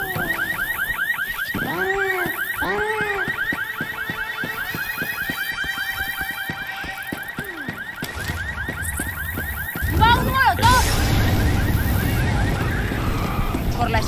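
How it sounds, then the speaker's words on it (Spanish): A car alarm in the zombie shooter Left 4 Dead 2 blares loud and close, looping its cycling warbling and chirping tones for several seconds before giving way to a burst of game noise. "Cuidado con las alarmas de los coches."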